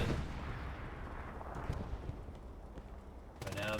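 A 75mm tank cannon round in a video game strikes an enemy turret without penetrating, heard as a booming, rumbling impact that sustains for several seconds, with a brief sharper burst at the end.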